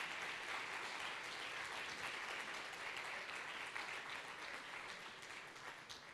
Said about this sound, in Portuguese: E para cada um deles eu quero pedir que você aplauda.